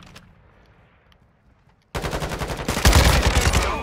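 Rapid automatic gunfire from a first-person shooter video game bursts in loud and continuous after a quiet opening second, the rattling shots growing even denser and louder toward the end.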